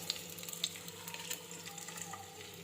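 Garlic, ginger, cinnamon and cloves fry in hot oil with a steady, fine crackle, faint and close, with a few sharper pops breaking through the continuous hiss.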